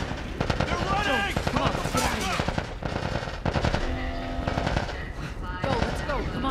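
Video game gunfire: rapid machine-gun bursts and single shots crackle close and loud throughout, mixed with shouting voices and other chaotic combat sounds.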